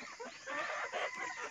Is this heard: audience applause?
no